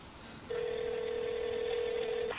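A faint steady telephone tone sounds for about two seconds over quiet background hiss, then cuts off.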